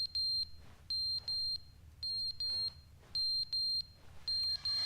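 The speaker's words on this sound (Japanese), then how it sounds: "なんかピーピーピーピー言ってるよ。" A high electronic alarm in The Stanley Parable video game beeps in rapid triple bursts that repeat at steady short intervals, shrill and clear over a faint low hum, with no voices.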